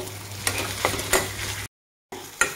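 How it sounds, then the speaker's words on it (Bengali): Spiced potato filling for samosas, seasoned with salt and cumin powder, is stirred and mixed in a pan, giving close scraping and soft sizzling with a few sharper spoon knocks and a brief silent gap. "ভালোভাবে আমি আলুটাকে নাড়িয়ে চাড়িয়ে মিক্স করে নিব সবগুলো উপকরণ একসাথে"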